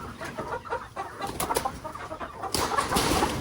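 Chickens cluck and murmur nearby in short, uneven bursts, with some rustling and movement mixed in.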